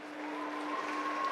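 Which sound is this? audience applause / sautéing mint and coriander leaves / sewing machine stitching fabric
audience applause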